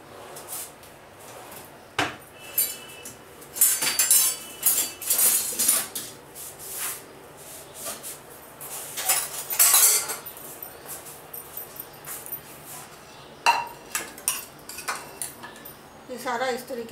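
Metal utensils and pots clatter and scrape in a home kitchen while homemade ghee is strained, with repeated clinks and knocks in irregular bursts, some sharp and close.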